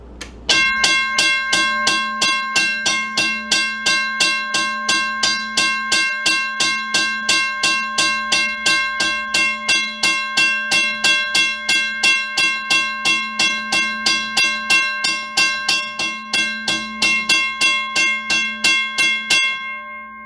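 A WCH 0333 railroad crossing bell rings with rapid, evenly spaced metallic strikes at close range, loud and sustained for nearly twenty seconds before cutting off and leaving a short ringing decay.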